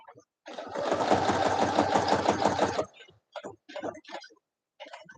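A sewing machine back stitches through fabric in a steady, fast mechanical chatter lasting about two seconds, then stops; a voice speaks briefly afterward in short bursts.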